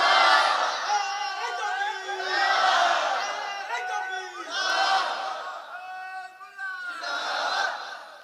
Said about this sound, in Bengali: তাকবীর মারেন, তাকবীর দেন,